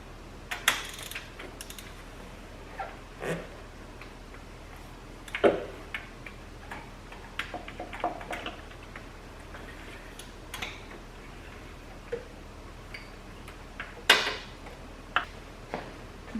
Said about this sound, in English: I'm gonna go ahead and put a hand ratchet on it and make sure I'm happy with it.